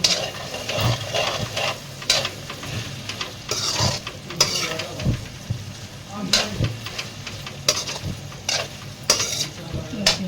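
Onions and chilies fry in a pan in a home kitchen, giving a steady sizzle broken by the repeated scrape and clatter of a utensil stirring against metal.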